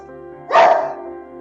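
A dog gives a single short bark, close and fairly loud, over a steady low background hum.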